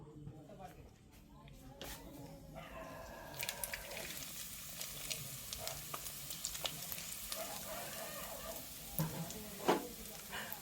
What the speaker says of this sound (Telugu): నూనెది కాగింది ముందుగా వడిమి వేస్తున్నా